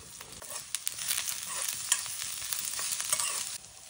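Mustard seeds, cumin and ginger-garlic crackle and sizzle in hot oil in a wok in a Konkan village kitchen, a steady close hiss studded with small sharp pops throughout, with no talking.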